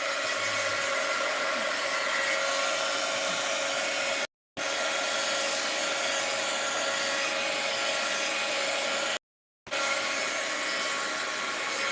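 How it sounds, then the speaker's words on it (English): A heat gun blows continuously while drying paint on teabag art, a loud, steady airy whoosh cut by two short silent gaps, close by with no talking. "I might buffer again if I turn my heat gun on, but I got to get this dry"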